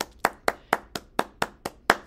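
Single hands clap by striking fingers against the palm, nine sharp, evenly spaced claps at a steady moderate pace, close and clear with nothing else around.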